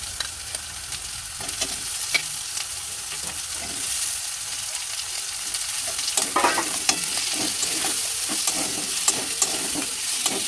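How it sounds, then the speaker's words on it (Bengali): Freshwater mussels frying lightly in a pan with fried garlic, a steady loud sizzle with intermittent scraping and stirring clatter throughout, no talk. "রসুন ভাজা হয়ে গেছে, এখানে আমি এবার এই ঝিনুকগুলো একটু হালকা করে ভেজে নেবো।"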